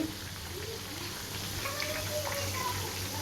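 Pieces of chicken 65 fry in hot oil, giving a faint, steady crackling sizzle that continues evenly throughout with no talk.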